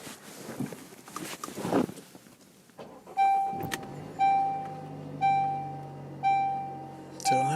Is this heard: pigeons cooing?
no